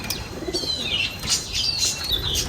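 Small pet munia birds in an enclosure give thin, high chirps and tweets in quick repeated bursts, with faint wing flutters against a steady background hiss.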